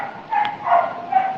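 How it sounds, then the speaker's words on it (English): Dogs barking in the background of a room, several muffled woofs and yips in an irregular pattern, moderately loud but somewhat distant, with no clear speech. "I apologize for the dogs."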